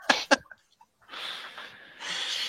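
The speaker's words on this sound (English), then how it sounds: "Bless you." A sneeze bursts out twice in quick succession, sharp and close, during a tabletop role-playing session, then settles into a hush before broad background noise rises.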